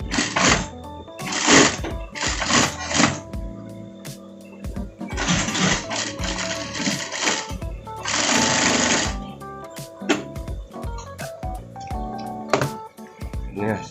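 A sewing machine stitching the front pocket of a parka jacket, running in loud, close bursts of rapid whirring stitches separated by brief pauses and handling noises.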